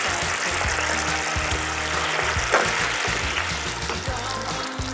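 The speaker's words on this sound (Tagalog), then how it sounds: "Pag kumukulo na po, ilagay na po natin ang mga hot dogs at yung 2 pirasong itlog." Hot dogs and two eggs cooking in a pot of boiling water, a steady bubbling and hissing roil that holds at an even level throughout, close to the microphone with no voices.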